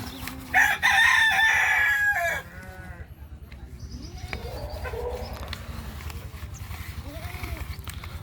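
Fayoumi chickens: a rooster crows loudly and close, then hens cluck and call softly over steady low background noise.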